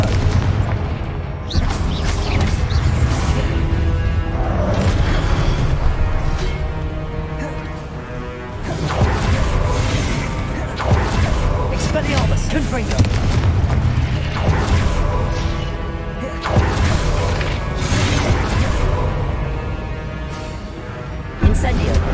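Repeated Confringo and Expelliarmus spell blasts in the Hogwarts Legacy video game, a string of booming bursts and crackles in quick succession over a busy combat soundscape.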